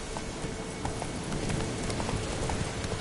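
Roach the horse trots in a PS4 video game, and her hoofbeats come as a quick, steady run of clip-clops set against a dense, hissy ambient background.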